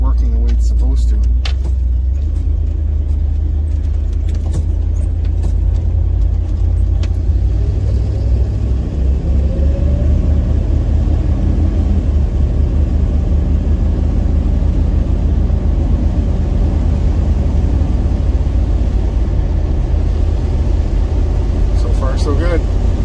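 A GMC Vandura van with a newly replaced transmission rolls off in drive, its engine rumbling low and steady close by, with a faint jingle of keys early on and no talk over it.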